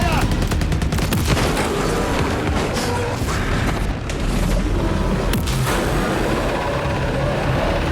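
Heavy, continuous gunfire and booming blasts in the video game Borderlands 4, a dense, loud barrage with rapid automatic bursts and explosions layered throughout, with a voice speaking beneath the chaos.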